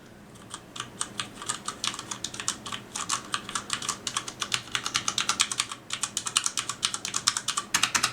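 Rapid, soft clacking of quiet switches on a Ducky Year of the Dragon mechanical keyboard, continuous typing with quick irregular bursts, fairly close and not very loud.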